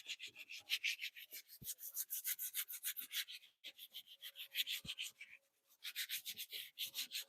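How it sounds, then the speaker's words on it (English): Rough sandpaper rubbed by hand over a black walnut log, a steady series of quick back-and-forth scratchy strokes with a brief pause midway, close and fairly quiet, with no talking. "I'm gonna take some rough sandpaper over it."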